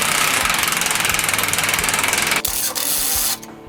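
A truck's airbag suspension bolts get tightened with an impact wrench, a loud rapid hammering burst that runs for a couple of seconds, then shifts to a shorter spin before stopping.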